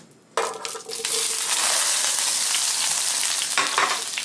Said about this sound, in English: Let's put these potatoes in. Give them a little fry.